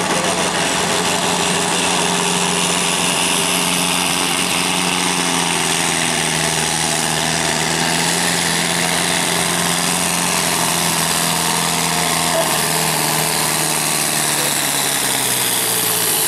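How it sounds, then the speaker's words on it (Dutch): A slightly rough-running engine idles steadily and loudly, its low hum wavering slightly, with no voices. "Met een net niet goed lopende motor."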